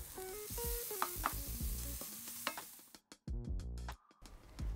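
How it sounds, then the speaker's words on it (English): Minced garlic and grated carrot sautéing in a pan for a noodle stir fry, a close hissing sizzle broken by several brisk scraping stirs and clatters of the utensil. "Stir to combine and sauté the garlic until slightly browned."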